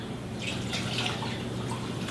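Water is poured into a pot for dissolving sugar while making limoncello, a steady, soft rushing splash that continues unbroken.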